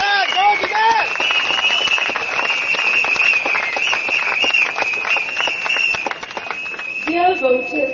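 Dense clapping from a crowd at an SPP election rally in Potong Pasir, Singapore, during the 2015 general election, continuous for several seconds with a voice briefly heard at the start and end.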